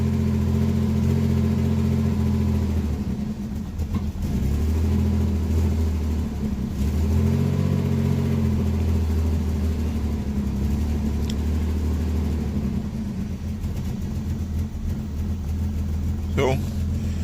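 A boosted BMW E36 engine runs steadily and loudly close by, a brief rise in revs giving way to a settled low idle rumble throughout, with someone talking over it.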